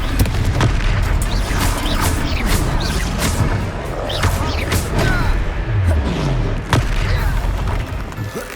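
A Confringo explosion spell booms in Hogwarts Legacy amid a busy battle, with repeated sharp blasts and thuds layered over constant effects and music-like background.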